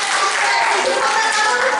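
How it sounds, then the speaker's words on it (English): Audience applause for a child named Jessica at an upper primary school bubbles show: steady, dense clapping fills the whole moment at even loudness, with no voices standing out. "A big round of applause for Jessica!"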